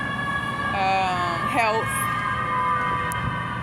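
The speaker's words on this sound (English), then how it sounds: "Let that ambulance ride past." An ambulance siren wails past with rising and falling tones, loud and close at first and then fading, while a voice talks over it.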